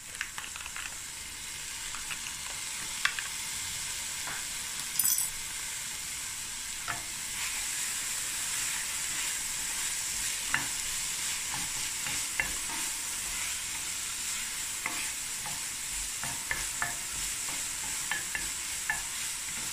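Ginger, chili and garlic fry in a pot for a Cape Malay sugar bean bredie, giving a steady close sizzle with scattered clicks and scrapes of stirring, and no voices.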